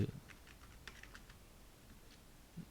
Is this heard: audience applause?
no